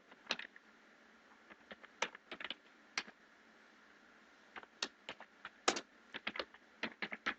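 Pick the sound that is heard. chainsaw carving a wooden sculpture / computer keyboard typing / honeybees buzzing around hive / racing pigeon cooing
computer keyboard typing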